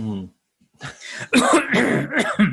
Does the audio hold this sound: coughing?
yes